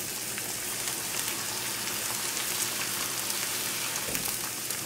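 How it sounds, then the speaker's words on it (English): Egg-coated chicken cutlets searing in a hot pan, giving a steady, dense sizzle and crackle that stays loud and even throughout, with no voices. "what I like about the Francaise style, meaning with the egg, kind of sears it."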